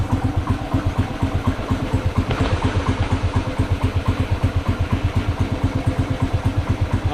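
A Norton Model 50 motorcycle engine runs steadily at idle, its single-cylinder thump beating in a fast, even rhythm, close and loud throughout with no voices.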